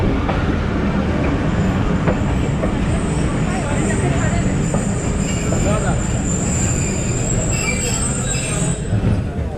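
The 130DN Thal Express passenger train pulls into Attock station platform, its wagons rumbling loudly and wheels squealing, with crowd voices in the background.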